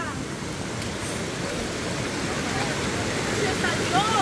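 Naranjo River overflowing after a hurricane, a steady broad rush of fast muddy water heard fairly close, with faint voices at the edges.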